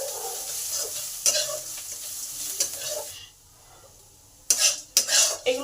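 Grated ginger sizzling in a pan during papaya pulao cooking, with close stirring and sharp spatula knocks against the pan, a brief quiet gap, then several loud clattering scrapes.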